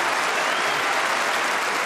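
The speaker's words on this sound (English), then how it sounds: "I know you'd really like to keep applauding" An audience in a town hall applauds in a dense, sustained burst of clapping, fairly close and even in level, with no talk over it.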